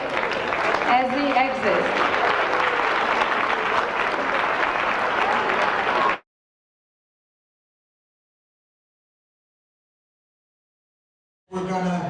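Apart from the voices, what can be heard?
audience applause at a ceremony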